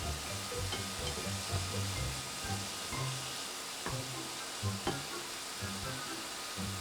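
Pork stir-frying in a hot pan for a Thai mixed vegetable and pork dish, with a steady close sizzle broken by rhythmic scraping and stirring clatters throughout.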